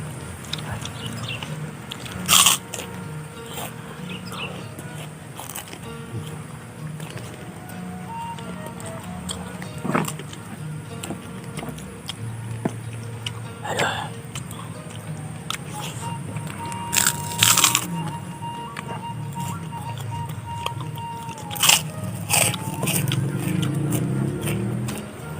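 Close-up chewing and crunching of seblak with dumplings, eaten off banana leaves, with intermittent crisp crunches and bites over a steady low background.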